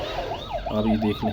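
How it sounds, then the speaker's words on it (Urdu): A toy ambulance's electronic siren wails in rising and falling sweeps, loud and close, with a person speaking briefly over it. "اس کے ساتھ یہ ایمبولینس ہے ناظرین، یہ بس ایسے چلتی ہے"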